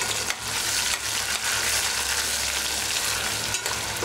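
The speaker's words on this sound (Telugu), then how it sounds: "మంచిగా కలుపుకొని ఇందులో ఆయిల్ సెపరేట్ అయ్యేటంత వరకు దీన్ని ఫ్రై చేసుకోవాలి" Masala paste sizzles steadily in hot oil for a mango chicken curry, a dense continuous frying hiss with occasional stirring scrapes, close and fairly loud, with no voices.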